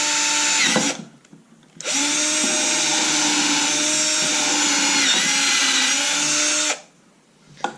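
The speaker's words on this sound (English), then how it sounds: "I'm just going to go ahead and drill that right through both sides." A power drill drilling through wood whines briefly, stops, then runs in a long, steady high-pitched burst before cutting off, loud and close.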